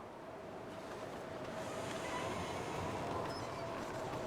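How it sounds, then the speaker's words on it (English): Steady outdoor wind in The Long Dark survival game, Interloper difficulty, a broad constant rushing roar that swells slightly louder through the second half, with no voices. "It is windy."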